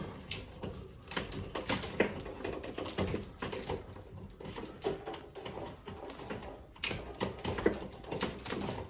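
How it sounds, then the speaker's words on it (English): Tape is peeled off an RG6 coaxial cable in a run of sharp, crackly rips and ticks, close and fairly quiet, coming in irregular bursts with short pauses between pulls. "So we're gonna take this tape off."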